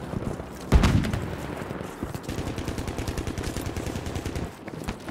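Anti-tank grenades fired in a video game battle involving tanks: a loud boom near the start, then a steady rattle of rapid gunfire and battle noise that runs to the end.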